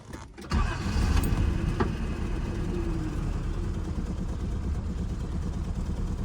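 A 1979 Datsun 280ZX engine catching and running, a short starting burst followed by a steady, rough, close idle rumble that holds throughout.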